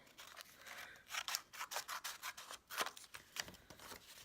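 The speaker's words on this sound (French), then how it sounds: "Je vais couper le haut." Scissors snip through the top of a container in a quick run of crisp, rhythmic cuts, close and moderately loud with no voices.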